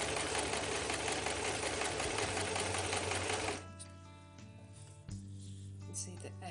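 A sewing machine with a hemming foot runs steadily as it hems lightweight test fabric with matching thread, a dense continuous whir that stops partway, leaving quieter mechanical clicks and hum.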